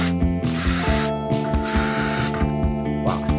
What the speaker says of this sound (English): Now you need to screw it in. Screws that are provided.